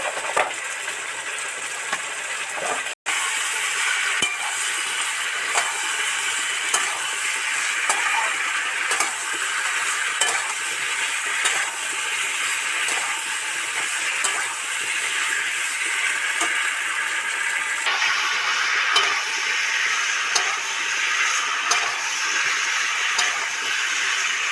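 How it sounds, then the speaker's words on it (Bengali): Vegetables with pumpkin and spices fry in oil, giving a steady close hiss and sizzle, broken by regular light ticks of stirring and no talk. "সবজিগুলো তেল ছেড়ে গেছে, ভাজা ভাজা হয়ে গেছে।"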